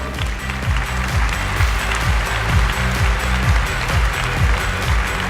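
An audience applauds steadily, the clapping blending with a repeating rhythmic music bed underneath.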